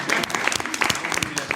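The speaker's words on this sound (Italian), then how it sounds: "Oh, ok, un applauso." A brief burst of audience applause, many hands clapping briskly together, with a voice faintly mixed in beneath the clapping.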